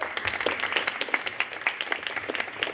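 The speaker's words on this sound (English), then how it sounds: "Let's give a round of applause." A seated audience claps steadily at a scientific presentations festival, a dense, continuous patter of many hands that stays fairly even throughout without any voices.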